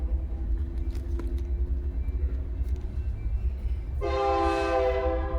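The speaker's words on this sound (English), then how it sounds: "Fucking trains." A train horn blasts loud and close over the steady rumble of a passing train, with the horn's bright tones starting in the last second and a half.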